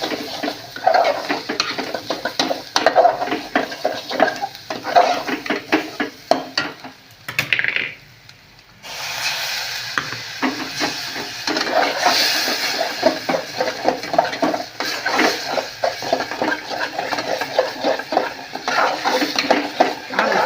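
A spoon scrapes and clatters against a metal pan in steady stirring strokes, with a brief pause partway through before the mixing resumes.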